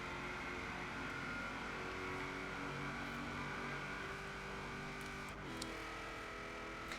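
A classic Ford fitted with a huge V8 accelerates hard in the Forza Horizon 4 video game, its engine giving a steady, droning, harmonic-rich roar throughout, with a brief shift-like dip near the end.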